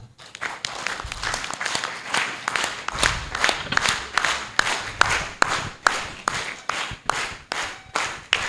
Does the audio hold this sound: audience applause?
yes